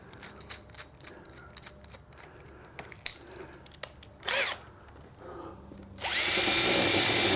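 A power tool grinds down a plastic part for a DIY RV trailer passthrough port to get a snug fit. Scattered handling knocks and short bursts build to a loud, sustained close whine at the end.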